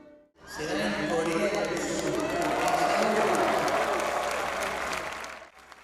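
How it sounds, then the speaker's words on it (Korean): A huge crowd at the World Youth Day closing Mass in Lisbon breaks into applause: a loud, sustained roar of clapping and crowd noise that swells in, holds steady, then fades at the end. "교황이 차기 대회 개최지를 발표하자 박수가 터져나옵니다."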